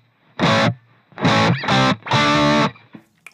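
Three bursts of distorted electric guitar chords played dry with no reverb, each cutting off sharply into silence, loud and close, with a short gap between them.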